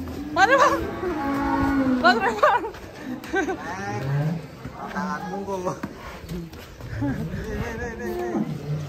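Belgian Blue cattle moo and low loudly several times, close by, while a crowd talks and chatters around them.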